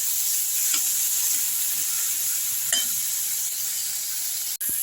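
Vegetables simmer after mustard, poppy seed and sesame paste water is added, a continuous bright sizzling hiss with a few soft stirring scrapes and a brief clack at the end.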